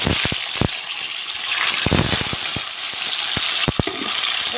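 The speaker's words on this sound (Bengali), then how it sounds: "এখন এই তেলেই আমি পনিরগুলো ছেড়ে দেব" Paneer pieces fry in hot oil in a home kitchen, a loud continuous sizzle and crackle with sharp bursts of popping and spattering.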